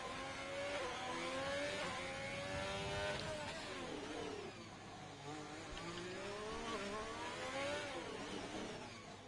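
A Ferrari Formula racing car in a PS4 game laps Monaco during qualifying, its high-pitched engine rising through gears with repeated upshifts and dips for corners, heard onboard, loud and continuous, with no talk over it.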